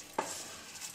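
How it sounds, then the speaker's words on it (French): A brief scrape of a spoon stirring rice coated in fat for a pumpkin risotto, one quick stroke followed by a faint, steady sizzle, close and quiet. "On va bien nacrer le riz, on va bien imprégner"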